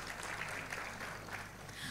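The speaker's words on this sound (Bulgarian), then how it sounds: "Аплодисменти за всички тях." An audience at a mixed choir concert in Shumen gives fairly faint, even applause that continues steadily through the short stretch.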